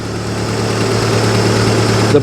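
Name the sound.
boat engine idling while flushing antifreeze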